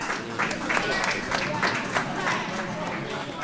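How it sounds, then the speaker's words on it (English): Spectators applaud from the warm room of a curling club at a junior bonspiel, a light patter of clapping heard faintly under a commentator's voice. "And applause from the warm room"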